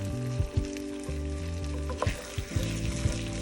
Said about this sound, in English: Give it another stir.